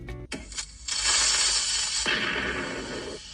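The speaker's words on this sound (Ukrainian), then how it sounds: "Це оцей кріпер, він коли взривається, оцей звук такий." A sharp onset followed by a loud, sustained burst of noisy hiss and crackle from a Minecraft creeper explosion, with a second surge partway through, fading slowly.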